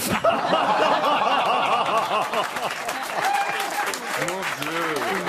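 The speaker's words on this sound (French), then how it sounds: "Il y a une gamine qui applaudit au premier rang" A radio studio audience breaks into sustained applause mixed with rolling laughter and chuckles, many hands clapping steadily throughout as voices laugh over it.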